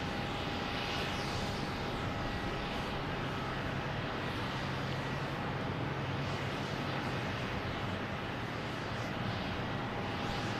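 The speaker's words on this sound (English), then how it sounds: "next to arrive, we have WestJet coming in from Vancouver." A WestJet jet arriving from Vancouver at Boston Logan Airport makes a steady, distant engine roar that holds evenly through the whole stretch, fairly faint, with a thin sustained whine running on top.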